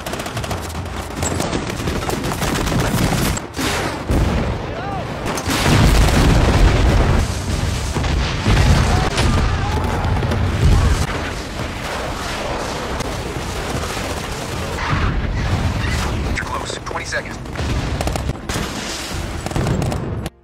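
Dense battle sounds from a ground and air assault on Taliban fighters in Afghanistan, with continuous machine-gun bursts, rifle fire and heavy booming explosions. The firing keeps up loud and chaotic throughout, and no voices are heard.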